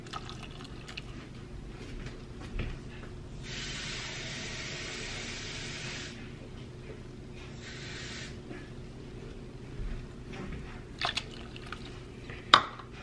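One cup of water is poured into banana bread batter in a home kitchen in two short, soft streams, the first lasting a few seconds and the second briefer, with faint clinks and handling noises around them and no talk.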